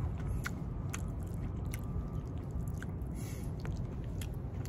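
Someone chewing a mouthful of Kuala Lumpur Hokkien mee noodles, with soft, close, wet squishing and biting sounds repeating at an uneven pace over quiet background hiss.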